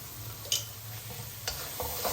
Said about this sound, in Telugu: ఉల్లిపాయలు బాగా వేగాలి కదా ఈ మెంతి పౌడర్ కూడా చక్కగా వేగిపోతుంది